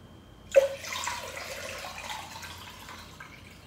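Water pours into a pot for a home hotpot meal, starting with a sharp splash and then settling into a steady, close rushing stream that continues alone.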